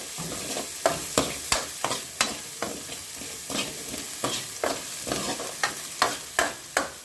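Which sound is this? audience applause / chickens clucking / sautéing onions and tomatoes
sautéing onions and tomatoes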